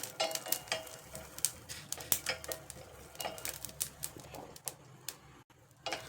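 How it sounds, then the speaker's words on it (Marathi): Garlic frying in oil in a pan for spicy raw mango pickle, a steady crackling sizzle with scattered sharp ticks and pops, close and moderately loud, with brief quieter gaps. "लसूण पण असा थोडासा परतून घ्यायचा आहे"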